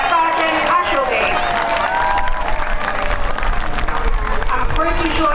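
A crowd at the Abingdon Air and Country Show cheers and applauds as sergeants come in, a loud continuous wash of clapping and shouting voices with babble throughout.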